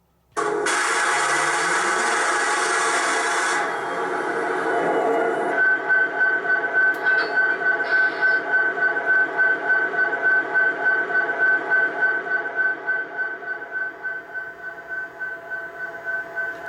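Electronic diesel locomotive sounds play loudly from the small speaker of an MTH One Gauge SD70ACe model train with Proto-Sound 3.0, a starting rumble giving way to a steady chugging idle with a whining tone, fading slightly.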